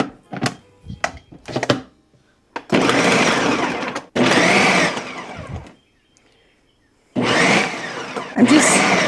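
A food processor pulses through shallots and mushrooms on its chop setting, loud motor bursts of a second or two separated by pauses and short clunks, close and with no talk.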